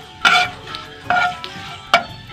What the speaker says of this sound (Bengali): প্রথমে দুটো এলাচ আর তেজপাতা কুচি কুচি করে তেলের মধ্যে ভেজে নিচ্ছি, সাদা তেলে